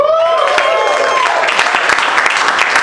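A comedy club crowd at a stand-up show applauds and cheers loudly, a dense wash of clapping and whoops that stays strong throughout, with a voice briefly audible near the start.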